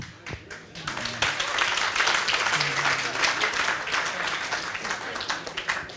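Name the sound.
audience clapping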